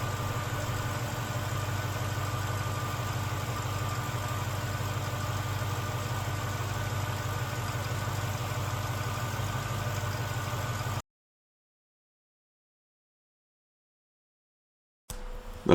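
Car engine idling while fresh green coolant circulates through a glass radiator hose, a steady close mechanical hum for about eleven seconds before cutting to silence.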